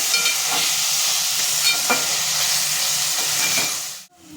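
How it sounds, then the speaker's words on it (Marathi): Chopped onion and tomato sauté in a hot pan for prawn pulao, giving a steady, close sizzle with a few soft stirring scrapes, then cutting off abruptly. "आता ह्याच्यामध्ये टोमॅटो टाकून घेऊया आणि टोमॅटो पण आपल्याला 4 ते 5 मिनिटं चांगलं परतून घ्यायचं आहे"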